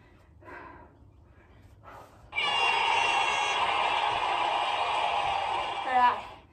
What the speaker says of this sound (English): Ignore this buzzer.